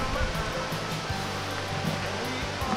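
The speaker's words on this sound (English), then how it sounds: "Approaching the base of the falls" Steady broadband rush of Jones Run Falls, a waterfall in Shenandoah National Park, heard from near its base as a continuous, even roar of falling and cascading water with no break.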